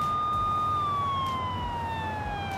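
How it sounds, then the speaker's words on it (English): A siren switched on in the BeamNG driving game, a steady electronic wail with a slowly falling pitch that holds loud and continuous throughout, with no talk over it. "Go ahead and turn the siren on."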